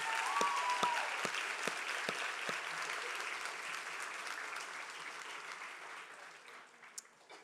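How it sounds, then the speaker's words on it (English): Applause from the audience at a 2025 school graduation ceremony, a sustained broadband patter of many hands that starts full and gradually thins and fades over several seconds, with no talking over it. "Another round of applause."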